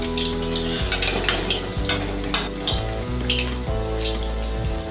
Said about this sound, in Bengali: মাছগুলো ভাজা হয়ে গেছে, এবার আমি মাছগুলোকে তুলে নেব।